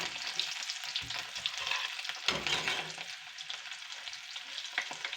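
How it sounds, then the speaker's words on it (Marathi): Garlic and ginger fry in hot oil with mustard seeds in a pan, a steady close sizzle with crackling pops and occasional stirring scrapes throughout, no voices. "लसूण आणि अद्रक टाकूया थोडंसं त्याच्यामध्ये. ते बरं फ्राय करून घेऊया."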